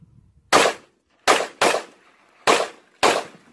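Hi-Point .45 handgun fired five times in quick, slightly uneven succession, each shot a loud, sharp close crack that fades quickly, with no talking.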